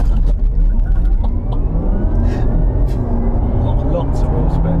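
A Porsche Taycan Turbo S Sport Turismo launch-control start: a loud, close electric whine climbs steadily as the car accelerates hard with wheelspin, while people inside react and talk over it.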